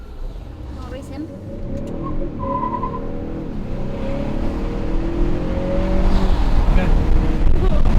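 A 2021 Honda Accord 2.0T fitted with a PRL high-volume intake races from a launch with its tires briefly spinning. The engine drone runs steady and fairly loud, and voices talk over it.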